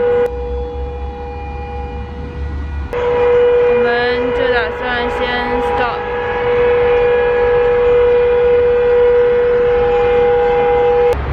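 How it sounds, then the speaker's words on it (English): A civil defense memorial siren in Shanghai wails steadily over a broad hum of traffic and city noise, with a person's voice briefly audible early on. "So that siren was set just to remember those who have passed due to the virus"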